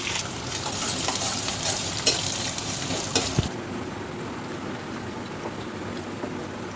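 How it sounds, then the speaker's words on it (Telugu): Cashews, dried red chillies, curry leaves and green chillies sizzle in hot oil as a tempering is stirred, a loud, steady crackle with occasional scrape knocks that suddenly drops to a quieter simmer midway. "పోపులు అయితే వేగుతున్నాయి"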